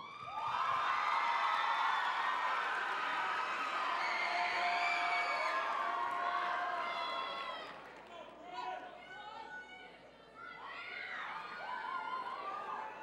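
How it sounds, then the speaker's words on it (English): A school pageant audience cheers, whoops and claps for a contestant, a loud roaring crowd with high-pitched shouts that swells and then fades back. "Please give a round of applause for Campbell"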